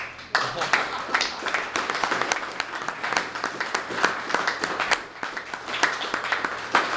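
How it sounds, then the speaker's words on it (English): Audience at a political speech in Edmonton breaks into a sustained round of applause, dense overlapping clapping at moderate distance that continues evenly throughout with slight swells. "That's worth a round of applause."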